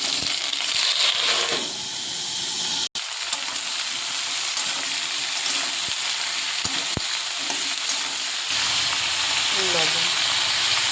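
Panch phoron spices crackle and fry in hot oil for pumpkin greens with ridge gourd, brinjal and potato, a steady close sizzle broken by a sharp metal clank and a few spatula taps.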